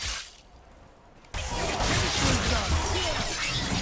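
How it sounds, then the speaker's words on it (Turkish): A shield breaks in a video game with a sudden, loud shattering crash that turns into a dense, sustained burst of glassy, crackling debris, with no voices over it. "Ama kalkanını kırdı işte."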